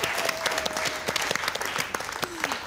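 Audience clapping at a Pakistani television talk show, a dense, lively burst of applause with sharp individual claps over a continuous roar, plus a faint tonal whistle-like line running underneath.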